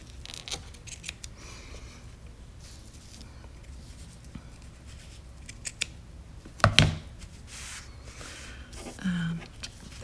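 Scissors trim the folded-over sides of a mold for a resin pyramid, giving a single sharp close snip against a quiet background hum.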